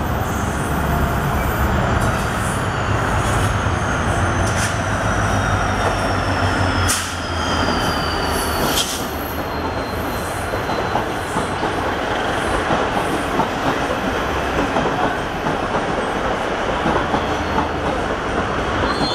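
Hampi Express passenger train pulling in on an Indian railway line on a hot summer day, a steady loud rumble of wagons with clickety-clack and occasional wheel squeal, heard near and continuous throughout.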